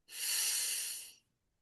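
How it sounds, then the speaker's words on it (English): A single deep breath drawn in through the nose, a soft close airy rush lasting about a second as part of a calming exercise for the nervous system, with no talking. "this is a really good breath because we're breathing in"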